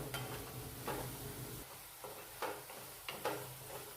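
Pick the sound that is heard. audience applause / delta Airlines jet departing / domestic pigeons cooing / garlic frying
garlic frying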